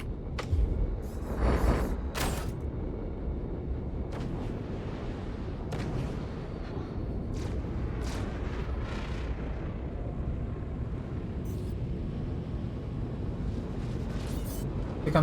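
Ballistic weapon gunfire in a Star Citizen space fight: sharp, loud shots and bursts, bunched in the first few seconds and then scattered, over a constant heavy rumbling drone, with no talking.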